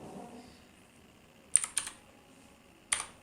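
A few sharp computer keyboard keystrokes, three quick clicks in a short cluster and a single one after a pause, close and clear in a quiet room.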